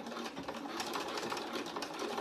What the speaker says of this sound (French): je vais refaire une petite couture de maintien en haut, histoire d'être sûre.